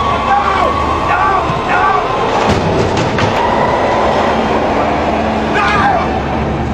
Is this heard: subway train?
yes